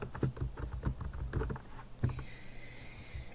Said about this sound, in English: So we're going to type in United States here.